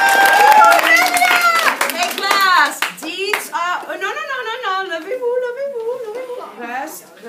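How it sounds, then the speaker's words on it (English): A school class claps hands in a classroom, with brief scattered clapping bursts near the start, while a teacher and children talk over and after it. "class, applaudissez-la!"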